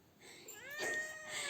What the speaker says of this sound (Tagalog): dito nagrereklamo ang aking mahal na pusa